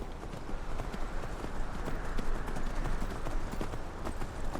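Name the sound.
horse hooves clip-clopping in Skyrim, a video game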